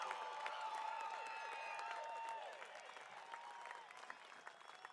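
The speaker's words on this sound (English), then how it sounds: "Let's give another big round of applause for our graduates." Audience applause for graduates at a University of Northern Colorado fall commencement ceremony, sustained clapping from a large crowd in a big hall, loud at first, then thinning and tapering off over five seconds.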